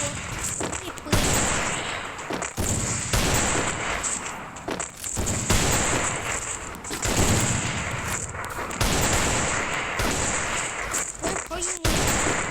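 Video game gunfire rattles in loud, rapid bursts and volleys, broken by a few short pauses, with some voice activity mixed beneath the shooting.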